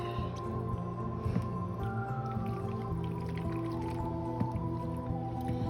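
Pasta bake ingredients being stirred together in a bowl, with soft, wet squishing and sloppy mixing sounds, steady and close, under a faint background hum.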